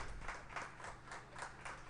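A crowd claps steadily at a bass fishing tournament weigh-in in the Delta, a continuous wash of applause with faint rhythmic swells, slightly distant and heard on its own without talk.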